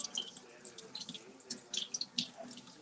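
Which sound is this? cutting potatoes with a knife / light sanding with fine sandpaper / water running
water running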